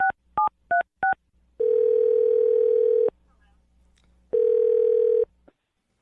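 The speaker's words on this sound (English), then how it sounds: "I'm going to dial her phone number right now." Four quick touch-tone beeps sound, then a steady phone tone, a short gap, and the same tone again, each clear and close with no talking.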